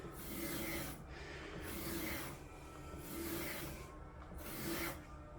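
A broadhead's backside is drawn across a Work Sharp sharpener to take off the burr. Four slow, soft rasping strokes, each about a second long, are separated by brief pauses and sound quiet and close.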